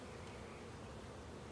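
Honey bees buzz densely and steadily around an open hive during an inspection, a close, even, continuous hum with no voices.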